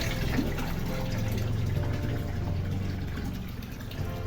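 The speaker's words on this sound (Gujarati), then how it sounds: "નળ આવ્યા છે ને એટલે તો ચાલો મારી મમ્મી પાણી ભરે." Tap water pours steadily into a household storage tank, a dense continuous rush with a low droning hum underneath, unbroken from start to finish.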